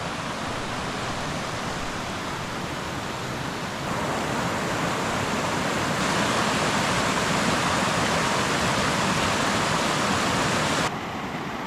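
Lost Creek rushing along the Timberline Trail on Mt Hood, a constant loud broadband roar of flowing water close by, swelling slightly partway through and continuing unbroken with no talking.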